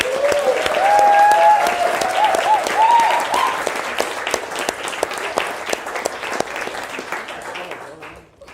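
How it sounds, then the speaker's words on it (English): Wedding guests cheering and applauding during the reception speeches, a loud burst of clapping with whoops and shouts that gradually thins and fades out toward the end. "So if you could all just give them both a loud cheer and round of applause."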